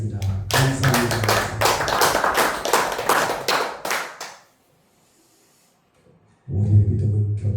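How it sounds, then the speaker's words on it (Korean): A church congregation bursts into loud, sustained applause for about four seconds, falls silent, then starts clapping again near the end. "우리 하나님께 크게 감사, 찬송, 영광의 박수를 한번 보내겠습니다"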